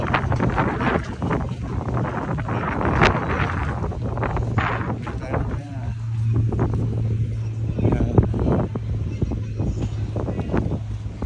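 Gusty wind buffeting a handheld microphone outdoors in the Uxbridge shopping area, a loud rumbling roar with shifting low gusts and faint traffic-like hiss beneath, no clear speech.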